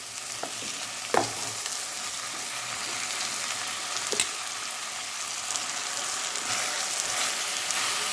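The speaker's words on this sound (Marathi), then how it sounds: "तांदूळ पण आपण एक ते दीड मिनिट याच्यामध्ये फ्राय करून घेऊ" A quarter kilo of washed rice fries and is stirred in a pan for veg pulao. A steady close sizzle runs throughout, with a few sharp scraping clicks of the stirring, the loudest near the start.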